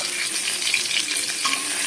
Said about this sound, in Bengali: আর একটু ভাজা হোক মাছটা